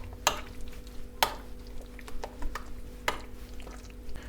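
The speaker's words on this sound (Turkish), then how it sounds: "Patlıcanımız da iyice şu şekil birbiriyle örseleyeceğim, karıştıracağım." Eggplant being stirred and mashed in a pan: a few sharp utensil scrapes and taps stand out against soft, intermittent squelching and stirring, fairly close and without talk.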